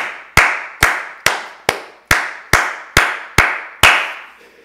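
Eight or nine sharp, evenly spaced claps ring out close and loud in a church service setting, each with a short reverberant tail, alone without talk.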